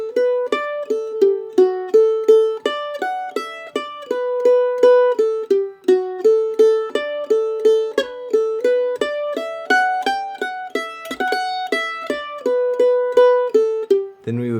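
Mandolin picks out the A section of an Irish jig, bright plucked notes in a steady lilting triple rhythm, close and clear and played alone, ending on a sudden low thump.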